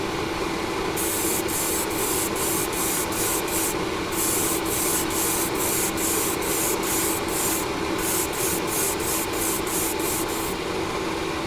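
Vallejo grey surface primer sprayed from an airbrush as a second coat, a steady loud hiss throughout with rapid rhythmic bursts of brighter spray pulses repeating in groups, close and alone.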